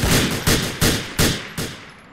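Gunfire in GTA 4: five loud, evenly spaced shots about 0.4 seconds apart, each a sharp broadband crack with a decaying tail.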